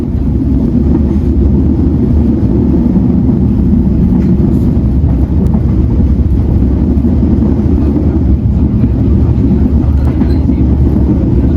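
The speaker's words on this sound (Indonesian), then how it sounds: "perjalanan kereta api Probowangi sudah berangkat dari stasiun" Probowangi passenger train leaving an Indonesian station, heard as a loud, steady low rumble of wheels and carriages from on board, with faint clacking over the rails and no talk.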